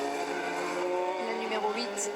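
Le Mans 24 Hours race cars of 2020 roar toward the finish line, a steady engine drone with rising whines near the end, heard under continuous race commentary.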